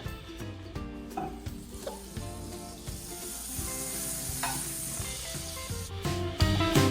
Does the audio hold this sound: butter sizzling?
yes